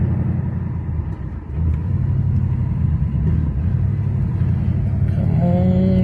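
A 1975 Pontiac LeMans engine running low on gas, a steady low rumble heard from inside the car during a road test, with a brief dip before settling into a continuous drone, no talk.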